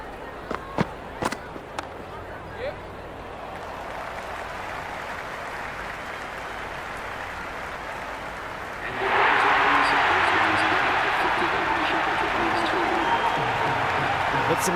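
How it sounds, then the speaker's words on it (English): A stadium crowd in the Cricket 26 video game keeps up a steady roar and applause after a few sharp knocks. The cheering swells sharply partway through and stays loud to the end, with talk faintly underneath. "There's a buzz, a real buzz coming from the stands"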